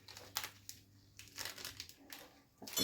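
A plastic bag being handled and opened, giving faint, intermittent crinkling bursts separated by quiet pauses, close to the microphone.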